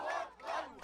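A street crowd in Gaza celebrates a ceasefire, cheering emergency workers with a loud, brief burst of shouts and cheers that swells, dips and swells again.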